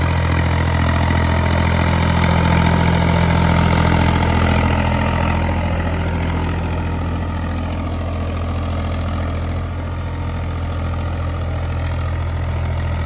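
An Eicher 485 tractor engine runs steadily in first gear at close range, a loud continuous low drone that dips slightly midway and holds on without a break.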